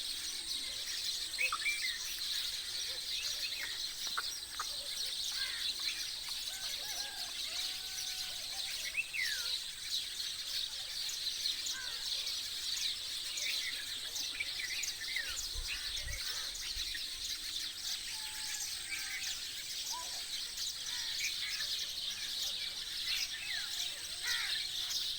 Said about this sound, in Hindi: दूसरे परिंदे भी इसमें, वो ब्लैक बर्ड्स हैं और कौवे हैं और बुलबुल हैं